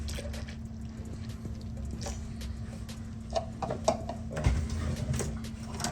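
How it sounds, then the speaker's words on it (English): Orange juice pours steadily into a fruit punch, a close, continuous liquid trickle and splash over a low hum, with a few louder gulping splashes near the end. "Now we're going to go ahead and add our orange juice"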